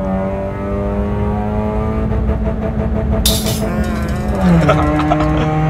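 A Honda Brio 1.2 engine on the stock ECU revs up and bounces against its limiter in a steady loud drone, a brief harsh burst in the middle and the pitch dropping slightly near the end.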